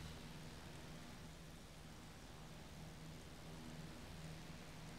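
Steady rain pours throughout inside the FSX flight simulator game during a multiplayer flight from Glasgow to Inverness, a continuous broadband hiss with a low rumble beneath, evenly loud and unbroken.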